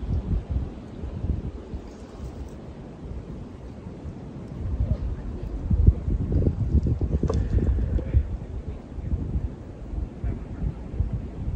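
Autumn wind buffeting outdoors at a scenic viewpoint, a rough, rumbling roar that swells and eases against the microphone, loudest in the middle, with no talking.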